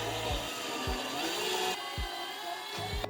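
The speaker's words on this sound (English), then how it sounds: "Might as well drill this one out." Power drill boring out a brittle plastic clip on a Subaru WRX fender, a steady high whine with short pitch-dropping revs and stops as the trigger is eased, fairly close, no talk.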